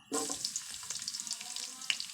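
Steady crackling sizzle of garlic frying in hot oil in a pan, close and continuous, with a few sharper pops.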